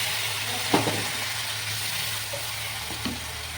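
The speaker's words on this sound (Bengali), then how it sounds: "এবার একটু জল অ্যাড করছি মশলাটাকে কষানোর জন্য" Spice paste for an egg curry sizzles in a pan after a little water is added, giving a steady, moderately loud hiss with a few soft clinks of a stirring spoon.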